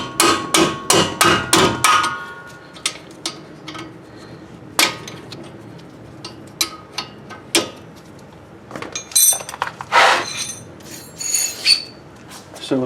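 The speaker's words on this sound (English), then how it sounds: "Put the wrench on, and then break that one loose as well." Ratchet wrench cranking on a front brake caliper bracket bolt of a Honda Pilot, a rapid series of sharp metallic clicks followed by scattered clanks and clinks of tools and hardware, close and loud with no talking.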